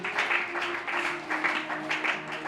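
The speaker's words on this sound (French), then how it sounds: "Applaudissons la parole du Seigneur" Church congregation applauding in praise, a steady dense clapping that swells in waves and fills the clip without speech.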